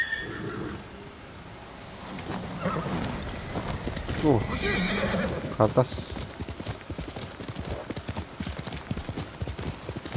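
A horse ridden through bamboo country in Ghost of Tsushima, its hooves clip-clopping steadily, a loud neigh rising midway, while someone talks over the gallop.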